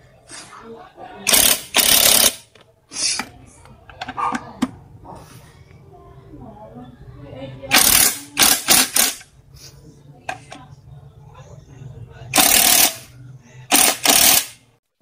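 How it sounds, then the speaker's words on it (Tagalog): A Makita impact wrench tightening the valve cover bolts on an engine during a leaking valve cover replacement, sounding in several loud, sharp rattling bursts of one to two seconds, separated by quieter handling and tool noise. "Gamit itong impact wrench na Makita."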